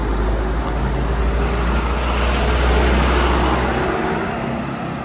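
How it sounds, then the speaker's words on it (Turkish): Cars passing on a road in Antalya, a steady roar of traffic with a rising and fading pass close by, heard alone without talk. "arabalar geçtiği için susmak zorunda kaldım"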